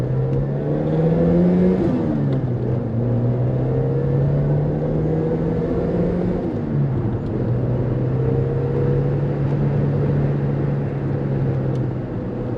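A 1989 Ford Escort LX engine hums and rises in pitch as the car pulls away, drops back at gear changes, then climbs again, a steady in-cabin drone with road rumble underneath throughout.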